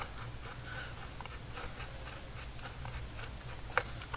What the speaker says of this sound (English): Just want to trim it right up to the bookboard. I don't want any of that excess soft paper on the side.